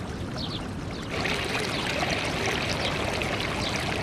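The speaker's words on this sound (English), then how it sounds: "They take advantage of an ample supply of water to flood their rice paddies." Plentiful water from Mount Ishizuchi flows into flooded rice paddies in Saijo, Ehime, in early spring: a steady, broad rush with gurgling texture that grows fuller and louder after the first second and holds evenly throughout.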